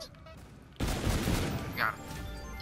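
Gunfire in Call of Duty: Infinite Warfare zombies gameplay, a sudden loud burst of game shooting that continues as a dense, booming stretch after a quieter start.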